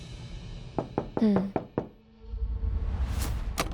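Knuckles rap on a door in a quick series of about five sharp, close knocks, followed by a low rumble of background noise and a brief high sound at the end.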